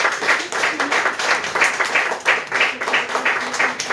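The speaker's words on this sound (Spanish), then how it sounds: "Yo les quiero pedir un aplauso para el Señor nuestro Dios en esta hermosa mañana" A church congregation breaks into applause, a dense wash of many hands clapping steadily with rhythmic swells across the whole stretch, fairly loud and close, with voices faintly mixed in.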